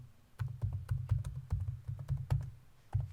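Computer keyboard keys pressed one at a time while entering a password, a dozen or so soft, evenly spaced close taps with a brief pause near the end, quiet with no talking.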